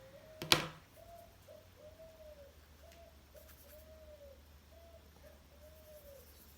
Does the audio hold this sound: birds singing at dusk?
yes